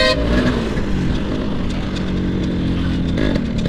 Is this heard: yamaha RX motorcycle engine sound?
yes